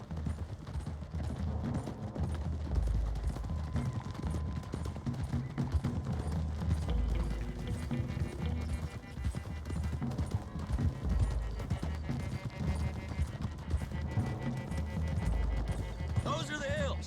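Several horses galloping in Red Dead Redemption 2, a steady, dense drumming of hoofbeats over a low rumble of riding and background game sound, continuing without a break, with a brief neigh-like sound near the end.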